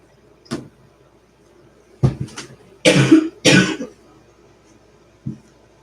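Several throaty coughs and a throat clearing from a person during a live evening tarot stream, spaced out over a few seconds with quiet gaps between, close to the microphone and without speech.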